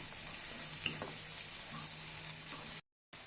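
Green peas for Mumbai-style tawa pulao sauté on a hot tawa over high flame, a steady, close sizzling hiss running throughout with faint stirring touches and a brief cut in sound near the end.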